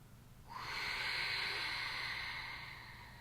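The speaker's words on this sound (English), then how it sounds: "some long, slow exhales out the mouth" A long, slow exhale out through the mouth during a breathing practice, one soft breathy hiss that swells after half a second and fades gradually, close and quiet.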